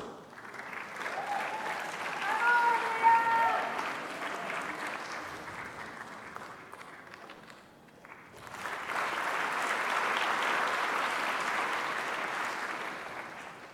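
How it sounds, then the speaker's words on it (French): The 2017 graduating class of the Université de Montréal Faculty of Pharmacy receives applause from a ceremony audience, a soft, somewhat distant crowd clapping that swells, dips briefly midway, then rises again in a sustained second wave. "Applaudissons chaleureusement la cohorte 2017 des diplômés de la Faculté de pharmacie de l'Université de Montréal"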